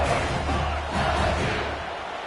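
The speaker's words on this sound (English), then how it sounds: "for an entire game, they are on their feet, yelling, screaming" A stadium crowd at an LSU college football game in NCAA 25 yells and screams in a dense, continuous roar that stays loud and steady throughout.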